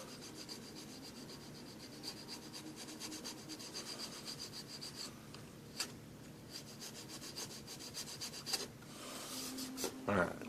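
A hand file rasps back and forth across a workpiece in repeated scraping strokes, close and moderately quiet, with the strokes growing more vigorous toward the end and no talk over them.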